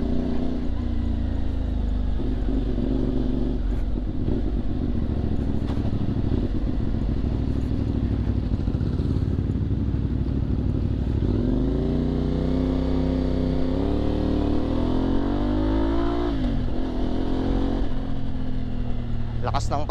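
A CF Moto 450MT motorcycle being ridden, its steady engine drone and rising revs running under continuous wind rush, with a rider talking over it.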